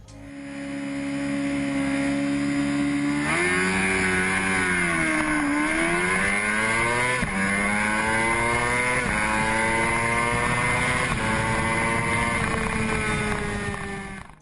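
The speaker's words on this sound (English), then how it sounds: "here's an example of its acceleration in a straight line from one of my trips to the 8th mile drag strip" A Honda CBR600RR sport bike accelerating hard down a straight at an eighth-mile drag strip, its engine screaming loud and close as it climbs through the revs, with quick dips at each gear shift and steady wind noise.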